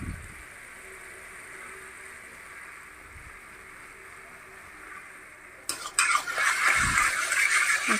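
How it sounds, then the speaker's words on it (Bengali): A spoon stirs mustard-poppy paste, salt and turmeric in a pan with kakrol, soft scraping and faint sizzle at first, then louder clattering scrapes against the pan toward the end. "একটু নাড়াচাড়া করে"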